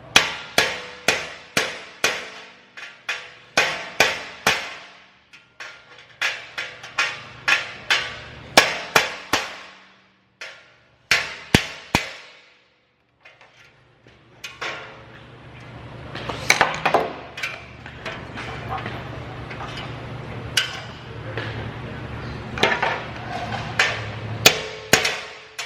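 Hammer blows flattening metal pieces for a car's belly pans ring out in quick loud bursts of sharp strikes with short pauses, then give way to a denser, softer run of tapping and clanking.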